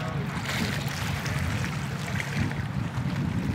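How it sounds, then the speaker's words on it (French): Seawater pouring into a boat hull through a hole as waves wash against it, a steady broadband rushing and sloshing that continues without a break, close and moderately loud. "Là, j'entends l'eau qui rentre avec les vagues."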